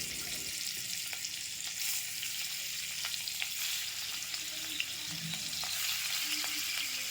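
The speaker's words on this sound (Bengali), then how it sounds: "চিংড়ি মাছ তো বেশি ভাজতে নেই" Prawns fry one by one in a wok, giving a steady close sizzle with faint stirring clicks and no voices.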